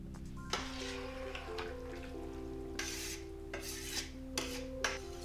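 Frozen riced cauliflower going into a cooking pan, soft scraping and stirring with a few brief bursts of sizzling over a steady background hum, no talking.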